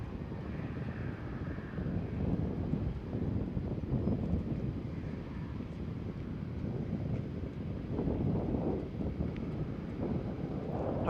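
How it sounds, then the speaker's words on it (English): Wind gusting across a microphone outdoors at an airfield, a steady low rumbling buffet that swells and eases throughout with no speech. "Hopefully the wind don't come through too much. It is getting quite breezy here now."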